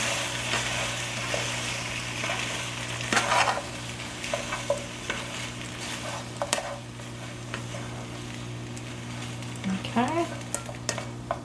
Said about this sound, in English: now it says to add noodles. Stir that up.